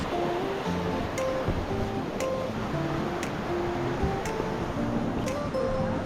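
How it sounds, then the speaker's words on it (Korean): Running water of a mountain valley stream on Bukhansan gives a steady broadband rush, continuous and fairly close, with faint periodic ticks over it. "이 계곡 소리도 듣고 물 소리 들으면서 올라가는 재미가 있어요"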